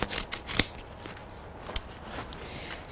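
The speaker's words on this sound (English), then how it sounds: "So I'm just going to cut a little piece of mounting foam off of here" Scissors snip through a small piece of mounting foam at a papercraft card table, two crisp close cuts over a faint rustling background.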